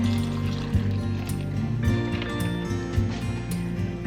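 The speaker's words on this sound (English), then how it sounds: "I'm using boxed broth, so this is 4 cups, and I'm using low sodium vegetable broth." Four cups of boxed low-sodium vegetable broth pour steadily from the carton into a soup pot for a mushroom and lentil soup, a continuous close liquid rush with faint glugging.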